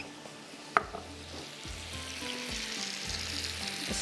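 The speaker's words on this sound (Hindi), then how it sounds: "यहाँ पर अदरक लहसुन डाल देते हैं" Ginger and garlic drop into three to four tablespoons of hot oil with a sharp clink, then a close, steady sizzle swells and crackles without pause.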